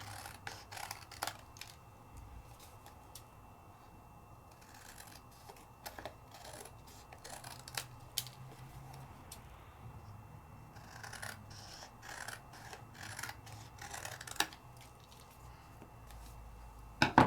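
Scissors trimming paper for a handmade craft card, a close, quiet run of crisp snips and rustling paper strokes coming in bursts with short pauses, no talking.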